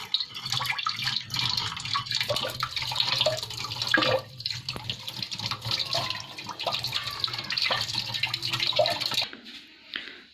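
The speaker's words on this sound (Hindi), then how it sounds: "तो गाइस इन स्ट्रॉबेरीज को धो लिया है।" Tap water runs steadily while strawberries are washed under it indoors, a continuous close hiss with small splashes and drips that ends abruptly near the close.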